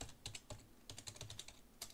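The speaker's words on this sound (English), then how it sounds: "Next thing that we're going to want to type is" Quick bursts of typing on a computer keyboard while entering code, a steady clatter of keystrokes in short clusters, close and fairly quiet with no voice over it.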